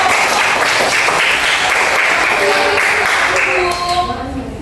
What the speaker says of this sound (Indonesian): kita beri tepuk tangan untuk Alvina dan